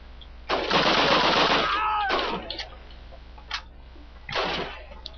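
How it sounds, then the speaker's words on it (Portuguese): Machine gun fire from an MG in Call of Duty set in Stalingrado, a long rattling burst followed by shorter bursts and a lone shot, loud and close, with no talk over it. "pode detonar com a metralhadora mesmo, mas tem que ser bem rápido"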